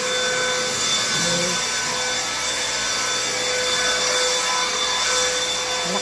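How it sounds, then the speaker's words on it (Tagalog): A blower used to clean a staircase drones continuously indoors, a steady whirring hum with tonal whine, unchanging throughout and without talk. "Oh, na-blower ko na ang hagdan."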